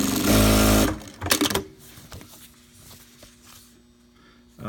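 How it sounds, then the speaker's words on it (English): A SEWPRO 5410-7 needle feed industrial sewing machine stitches in one loud, close burst lasting about a second, followed by quieter handling clatter and a low steady motor hum. "this machine normally used for any goods that requires needle feed"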